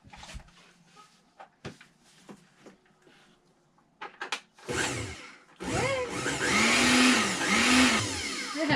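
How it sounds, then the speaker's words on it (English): A secondhand electric mixer aboard an aged sailboat whirs up loudly after scattered clatter, running steadily for several seconds with a fluctuating motor pitch. "We got ourselves a mixer."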